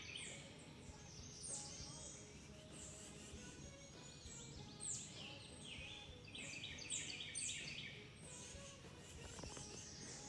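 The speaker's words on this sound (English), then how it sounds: "You can hear all the birds." Many birds chirp and sing in overlapping calls throughout, moderately faint against a soft outdoor background, with no talking.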